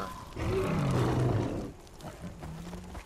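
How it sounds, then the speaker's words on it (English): In the Far Cry Primal game, a bear gives a deep, rumbling roar lasting over a second, loud and close, then quieter growling rumbles fade out afterward. "Hear that? That sounds like a bear."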